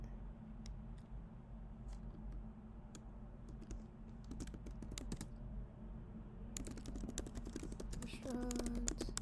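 Computer keyboard typing at a desk while entering text for a restaurant-finder website, a quiet run of soft irregular key clicks over low room hum, with occasional voice in the background.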